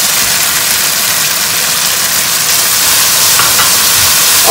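Green pepper and onion cook in a hot pan, giving a loud, close, continuous sizzling hiss that holds steady with no voices over it.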